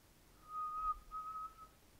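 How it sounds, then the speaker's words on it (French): A person whistles two clear, steady sustained notes with a short gap between them, soft and close over a quiet background while playing a laundromat simulator game. "J'aime bien siffler."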